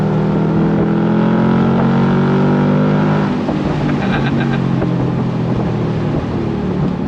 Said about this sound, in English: None of that V8 sound is artificial. It's all real, and there's nothing like the real thing